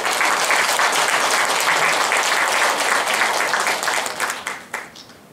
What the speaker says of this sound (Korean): 박수 받아드릴게요.